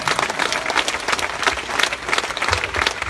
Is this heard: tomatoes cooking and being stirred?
no